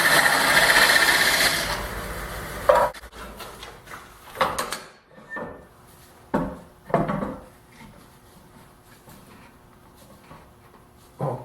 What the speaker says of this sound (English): I just want to turn a tenon on the end of the upright to fit this hole